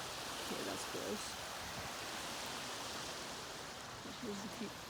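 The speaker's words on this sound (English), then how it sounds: "Here's the creek moving out." Creek water flows out across a sandy beach into a lake, a steady broadband rush with no clear pauses, fairly quiet and continuous throughout.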